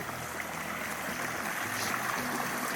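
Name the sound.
creek water flowing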